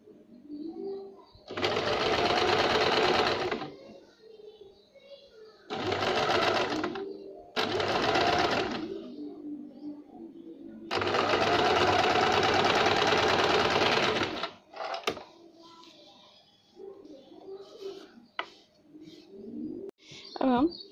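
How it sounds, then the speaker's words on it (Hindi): Sewing machine stitching the armhole and neckline of a jumpsuit (romper), running in several loud bursts of steady whirring separated by short pauses, with quiet handling noises between runs. "इस तरह हम इधर आर्म होल को और नेक को सिलाई लगाएंगे,"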